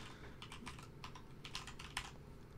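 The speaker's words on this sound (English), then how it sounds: "if we were to just type in some stuff here" Text is typed on a computer keyboard, a short burst of light, quick key clicks in an uneven rhythm, close but soft over a faint background hum.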